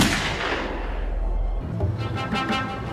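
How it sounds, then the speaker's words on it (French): A single loud, booming gunshot cracks out, its heavy low rumble holding for over a second before fading into echo. "C'est alors que le tireur arrive à leur hauteur et tire un seul et unique coup de feu."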